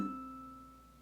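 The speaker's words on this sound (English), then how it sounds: "those 2 harmonics together sound like this" Two ukulele harmonics struck together ring out as a faint, pure bell-like tone that slowly fades, alone and close.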